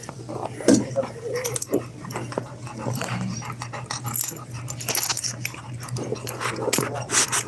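Dogs in a trailer on a nasty night, with close panting, whimpers and bits of jangling keys mixed under steady talk and a constant low hum.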